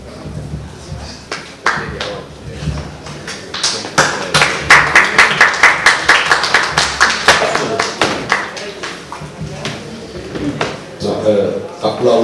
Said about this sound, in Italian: Applaudino